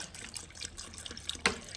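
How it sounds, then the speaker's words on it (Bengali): Water poured from a tap or vessel into a pressure cooker holding gati kochu (taro) for boiling, a brief faint splashing trickle with one sharper splash near the end. "এবার দিয়ে দেবো পরিমাণ মতো জল"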